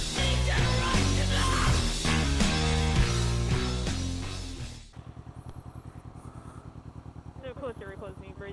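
A motorcycle engine is revved after a loud, busy passage, settling into a fast, rhythmic pulsing throb close by.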